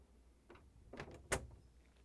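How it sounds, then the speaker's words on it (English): Refrigerator pantry drawers in a Whirlpool/KitchenAid/Maytag fridge being pushed shut, a few soft sliding rumbles followed by one sharper, louder close thud, heard quietly and nearby. "Now we're going to close these both pantry drawers."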